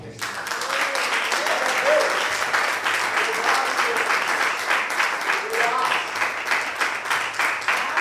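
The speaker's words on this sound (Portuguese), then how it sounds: "Aplauda o Senhor." Dense, sustained applause fills a church as the congregation claps for the Lord after a pastor's prayer, a loud continuous roar of many hands with some voices and faint exclamations mixed underneath.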